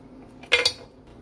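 A spoon knocks twice against a pot while spices are stirred into chili, two quick close clinks over a quiet background.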